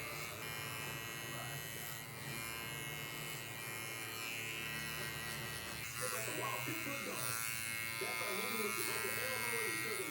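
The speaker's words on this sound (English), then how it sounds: "I like to take my comb and basically just use that to feed the hair into my clipper." Electric hair clippers buzz steadily through a bald fade slickback cut as a comb feeds hair into the guard, running continuously beneath voices talking nearby.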